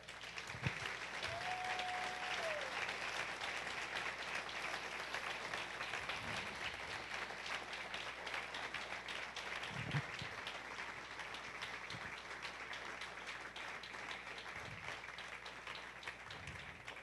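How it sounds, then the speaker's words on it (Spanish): A church congregation applauds steadily, a dense continuous wash of clapping that fills the whole stretch at moderate volume with faint voices now and then. "Dale un aplauso al Señor."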